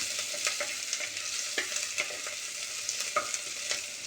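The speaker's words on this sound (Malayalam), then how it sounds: "ഇതും ആഡ് ചെയ്തിട്ട് ഇത്തിരി ഒന്ന് വഴറ്റുക" Small onions sauté in a pan for a yam curry, a steady sizzle with frequent soft stirring scrapes and taps of a spoon throughout, no voices.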